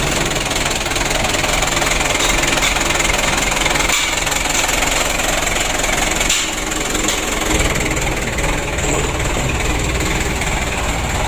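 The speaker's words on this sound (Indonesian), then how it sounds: "Kita panas dulu mesinnya." A rebuilt Mitsubishi 4D34 diesel engine idling while warming up after starting, a steady loud knocking clatter with constant mechanical vibration close by and no talk.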